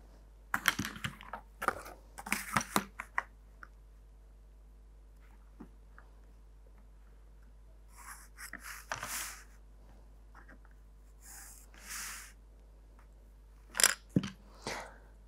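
Pen or pencil strokes on paper while drawing a pentagon for an engineering orthographic projection, heard as several separate bursts of scratchy drawing, close and alone.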